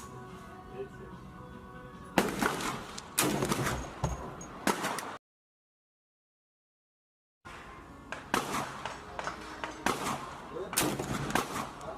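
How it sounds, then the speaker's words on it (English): Pistol fire on a range during testing of a red dot optic, loud sharp reports standing out over outdoor background, with a gap of silence partway through. "and then we fired a 3-shot group."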